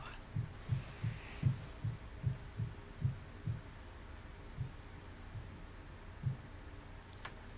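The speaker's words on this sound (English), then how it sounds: "It's like a heartbeat, isn't it? It's really loud." Heartbeat-like thumping in a reputedly haunted hall, a series of soft low thuds in a roughly regular double rhythm, fading and becoming sparse toward the end over a quiet hum.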